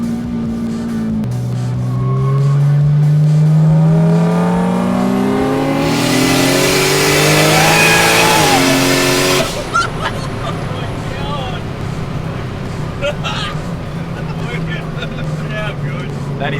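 A turbocharged Subaru Liberty at a roll race accelerates hard and loud. The engine note climbs through gears, then the car roars past and fades, with a crowd murmuring underneath.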